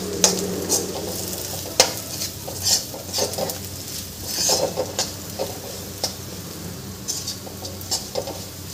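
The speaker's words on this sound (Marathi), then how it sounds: "आणि मिक्स करून घ्यायचं आहे छान." Spoon scraping and stirring sabudana khichdi in a frying pan, light sizzling under irregular clinks and scrapes, close and moderately quiet with no talking.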